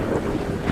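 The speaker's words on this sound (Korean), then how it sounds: "거센 바람이 몰아쳐 등불을 꺼뜨리고" Strong gusting wind blows steadily in a brief, dense rush of noise with no voices.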